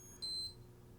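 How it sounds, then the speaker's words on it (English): A Seiko Panda chronograph wristwatch alarm sounds a short, thin electronic beep, one brief tone lasting about a quarter second over a quiet background. "So once that second hand goes to the 16, you'll see it start to beep, just like an alarm."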